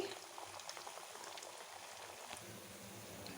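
Steady, dense sizzling and bubbling of pieces frying in hot oil in a pan for a semolina (rava) sweet, constant and fairly faint, with no voices.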